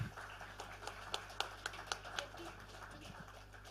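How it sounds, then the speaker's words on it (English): Sparse, faint applause in a meeting room, a few individual hand claps spaced irregularly against a quiet background hum, thinning out toward the end. "Ladies and gentlemen, can we hear some applause for our panelists here?"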